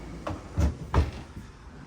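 A big drawer under the stove and microwave of a 2024 Sunseeker 3010DS Classic Class C motorhome slides open with a couple of soft rumbling thuds as it rolls out, close by in a quiet room.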